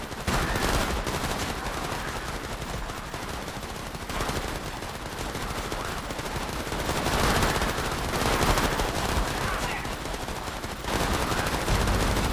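Sustained machine gun fire in the zombie game Persist Online, dense rapid bursts rattling almost without pause, loud and close, with short gaps between volleys.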